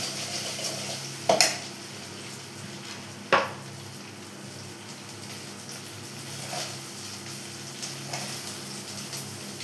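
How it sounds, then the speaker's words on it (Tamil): Ginger and garlic fry in a tempering with mustard seeds, giving a soft, constant sizzle with two sharp metallic clinks early on and a few faint stirring taps later. "கொஞ்சம் இஞ்சி பூண்டு போட்டு தாளிப்போம்"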